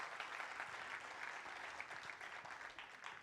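A church congregation applauds, a steady, dense wash of many hands clapping together, heard from some distance in a reverberant hall and continuing evenly for several seconds at moderate loudness.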